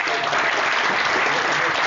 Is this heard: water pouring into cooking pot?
no